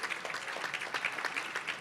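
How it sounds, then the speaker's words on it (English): Applause at a leadership colloquium honouring a pastor's birthday, a brief stretch of steady clapping from a seated audience, moderately distant and unbroken. "Please give him a round of applause"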